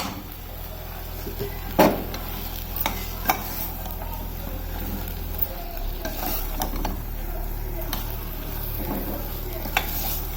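Kurma masala is stirred in hot oil, giving a low continuous sizzle with scattered scrapes and knocks of a spoon against the pot, and one louder clack near the start.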